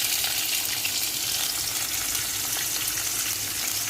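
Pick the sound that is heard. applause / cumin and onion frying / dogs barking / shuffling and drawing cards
cumin and onion frying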